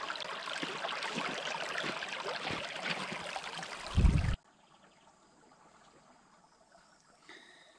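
A creek fed by many springs rushes and gurgles in a steady, close broadband wash for about four seconds, then cuts off abruptly to near silence with only a faint background hum afterward.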